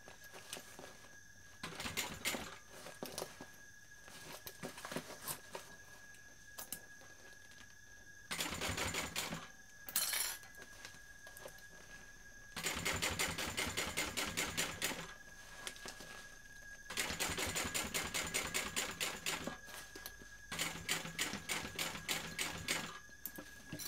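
A sewing machine topstitches a BeHip 2.0 bag in several rapid, rattling runs of stitching, separated by short pauses, close and fairly quiet.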